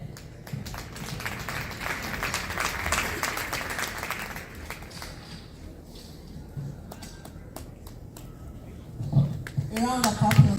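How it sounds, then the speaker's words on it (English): Audience clapping at an architecture association AGM, a broad spread of applause that fades midway, with voices and a microphone heard near the end. "A round of applause, please."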